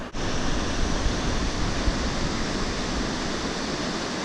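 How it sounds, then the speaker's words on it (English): A large waterfall roars in a valley, a dense, steady rush of falling water that fills the air at close range with no break. "And we're going to be seeing a nice big waterfall."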